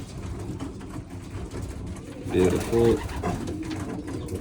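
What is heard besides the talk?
pet pigeons cooing in loft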